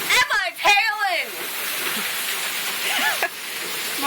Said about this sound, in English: can't believe there's that much hail